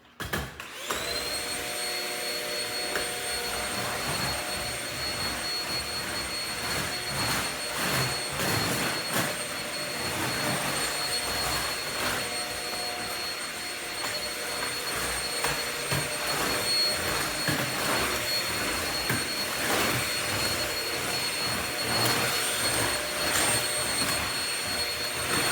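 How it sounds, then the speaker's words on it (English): Vacuum cleaner running steadily on its carpet setting, a loud continuous whine and roar with a high tonal hum that persists throughout, its pitch and texture shifting slightly as it passes back and forth over littered carpet. "it's just taking me longer to vacuum than it would"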